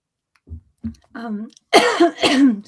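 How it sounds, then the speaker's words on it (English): A person coughs several times in short bursts, then clears the throat with a couple of harsher, louder coughs, close to the microphone. "I keep coughing"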